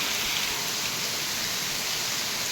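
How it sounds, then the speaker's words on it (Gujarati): Heavy rain pours steadily outdoors, a dense, even hiss of drops on surfaces filling the air without pause or voices. "બહુ વરસાદ પડે છે."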